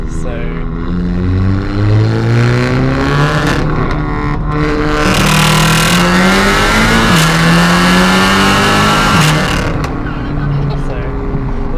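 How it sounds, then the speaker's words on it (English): A 375 kW stage 3 Audi TT with rolling anti-lag, loud close engine revving up and down in repeated surges with crackling pops and bangs, a voice speaking briefly over it. "Rolling anti-lag in there now as well"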